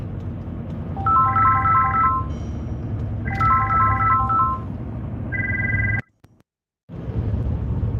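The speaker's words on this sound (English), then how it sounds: "I had a phone call came through." A phone's ringtone plays for an incoming call, a bright repeating electronic melody that loops several times at steady volume and then cuts off abruptly into brief silence.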